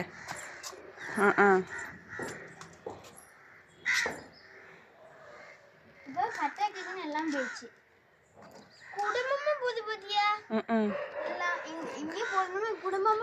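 A flock of crows caws repeatedly in bursts, some calls close and loud, others overlapping, with people talking at times between the calls.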